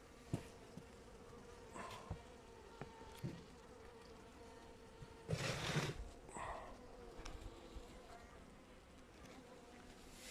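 Honeybees buzz faintly at a hive while feeding on cake, a soft, continuous hum with a few louder passes as individual bees fly close.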